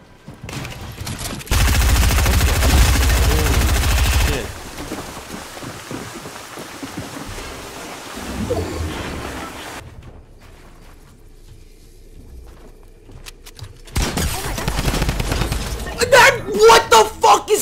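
Rapid automatic gunfire from a drum gun in a Fortnite-style shooter game bursts out loud and dense in long stretches, dropping to a quieter lull before more shots rattle back in near the end.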